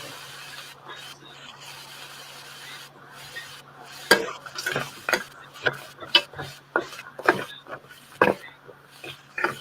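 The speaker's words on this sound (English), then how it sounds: "Stir fry." Food being stir-fried in a pan at home, with a run of sharp scraping and clattering utensil strokes against the pan that come close together, loud and irregular, after a quieter stretch of faint background sound.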